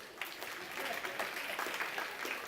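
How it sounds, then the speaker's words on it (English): Audience applause at a live talk, a steady wash of clapping running the full length at moderate loudness with no voices over it. "Round of applause."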